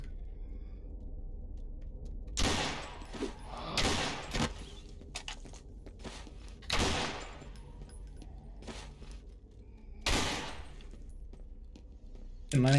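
Game gunfire from the horror shooter Underhell: sharp broadband shots in a loose, irregular series, several separated by pauses of a second or more, moderately loud against a quiet low background hum.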